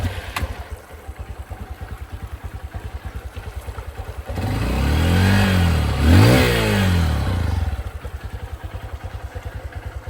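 Quiet adventure motorcycle heard up close: a steady, rhythmic low idle thump, then a loud rev that swells and dips before settling back to the even idle.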